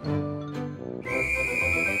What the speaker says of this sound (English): A whistle! You'll need that whistle to blow